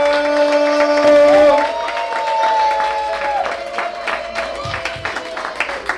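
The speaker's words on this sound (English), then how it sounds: "Put your hands together for Jerica D. Werther." Audience at a live poetry show applauding and cheering, a steady wash of clapping and crowd noise with a sustained tone running through it, loud and continuous throughout.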